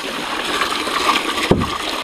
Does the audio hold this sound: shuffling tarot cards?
no